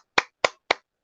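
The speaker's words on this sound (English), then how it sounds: "Clapping." Three sharp, evenly spaced hand claps sound alone and close, with silence between them.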